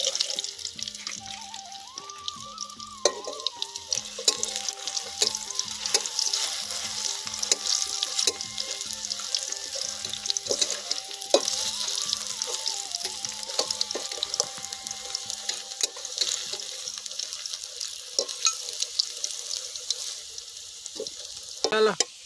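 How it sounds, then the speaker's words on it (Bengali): Potatoes frying in oil in a pan for aloo manchurian, a crackling sizzle close by with repeated scraping and clinking of a stirring spoon against the pan. "এবার আলুগুলা ভেজে নেবো"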